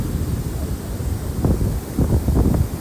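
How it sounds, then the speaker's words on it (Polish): Large ocean waves breaking on a Gold Coast beach in Australia, heard as a continuous low rumbling wash of surf with gusts of wind against the microphone, swelling louder toward the end. "Są tutaj najwyższe fale, jakie udało mi się chyba zobaczyć w życiu."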